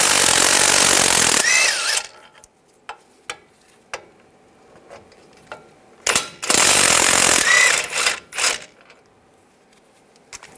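A power tool with a 21 mm socket spins out wheel hub bolts on a 2011-2018 Ram 1500. It makes two loud, close whirring bursts with quieter metallic clicks and clanks between them, and no talk.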